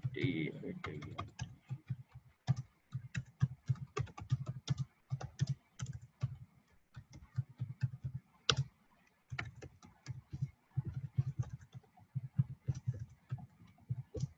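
Someone types text on a computer keyboard while designing a banner, producing rapid, irregular bursts of close clicking keystrokes with short pauses over about fifteen seconds; a voice speaks briefly at the start.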